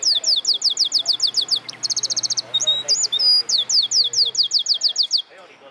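Many birds chirping and tweeting in quick repeated bursts at an outdoor bird market in Dublin, busy and fairly close, with a steady low hum underneath, on a rainy day.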